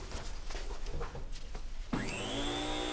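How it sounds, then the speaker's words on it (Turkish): A household vacuum cleaner switches on partway through, its motor rising sharply into a loud, steady whine that continues to the end, following a stretch of rustling and clattering. "sen elektrik süpürgesini aç, çalıştırsana."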